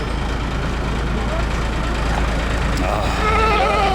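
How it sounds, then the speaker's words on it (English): A goat at a busy Saturday street market bleats among crowd chatter and passing traffic, its wavering cry rising briefly near the end over a constant low rumble. "She brings the goat from the farm."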